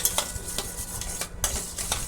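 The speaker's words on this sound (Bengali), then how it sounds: "টক দইটাতে একটু নুন দিয়ে ফাটিয়ে নেব ভালো করে" Sour yogurt and salt being beaten in a bowl for a brinjal dish, heard as a steady series of quick scraping, tapping strokes of a utensil against the bowl, close and moderately loud.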